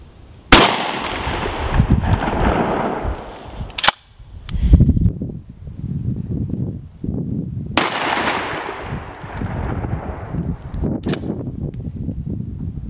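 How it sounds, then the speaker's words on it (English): Two loud, close shotgun blasts of double-aught buckshot fired outdoors through wooden blocks, each followed by a long fading rumble, with clicks and handling noises between the shots. "now we're going to shoot the same target. We've turned the blocks around and we're using double-aught buck."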